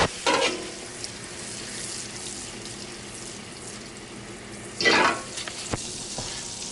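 A whole stick of butter sizzles steadily in a pan, close and even, with louder crackling bursts near the start and again around the five-second mark; no one talks.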